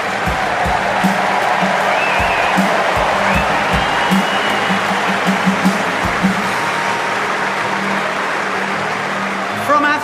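A large stadium crowd keeps up steady cheering and applause for athletes Jonathan Edwards, Jessica Ennis-Hill, Kelly Holmes and Paula Radcliffe, a dense, continuous roar that holds at a loud level throughout.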